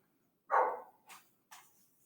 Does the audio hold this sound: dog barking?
yes